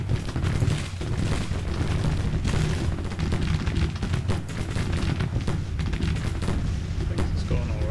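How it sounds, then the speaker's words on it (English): Continuous rumbling artillery and rifle fire rolls on in Grand Tactician: Civil War, dense overlapping booms and volleys with someone talking over the battle. "The whole idea of having artillery here was to fire this direction."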